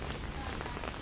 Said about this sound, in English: it is raining a little bit as you can see by the pool